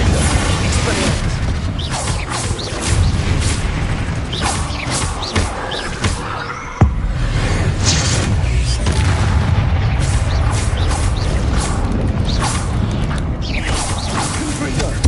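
Confringo explosion spell blasts in a Harry Potter video game, a steady run of booming thuds and crashes, loud and close, with one sharp impact midway amid dense game noise and voices.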